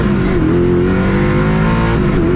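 Koenigsegg Agera driven at full throttle, its engine roaring loud and close with rising pitch as it pulls hard through the gears, with steady, continuous power.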